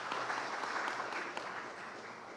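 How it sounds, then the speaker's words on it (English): Conference audience applauding its speakers at an event in Mumbai, a steady dense wash of clapping that holds for the whole stretch and fades slightly toward the end. "A big round of applause for all our speakers"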